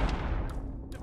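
A gunshot in the stealth video game Hitman 3 rings out as a sharp, loud blast at the start, followed by a lingering low rumble and a second fainter report near the end.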